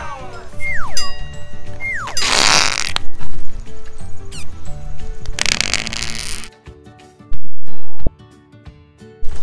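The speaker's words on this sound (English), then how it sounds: "Yeah, it does fart." A plastic toy lets out loud, sputtering fart noises in two bursts among clattering, boing-like plastic clicks and a sharp electronic tone near the end.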